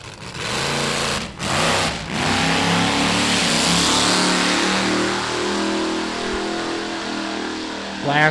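A drag racing car at Byron Dragway accelerates hard down the strip, its loud engine roaring and climbing in pitch with brief dips at gear changes, sustained close and strong throughout.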